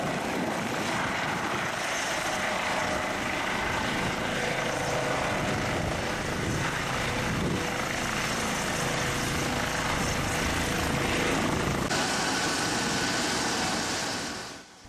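An ambulance helicopter runs with a steady, loud, broadband rotor and engine roar that holds constant for the whole stretch, then drops away at the very end.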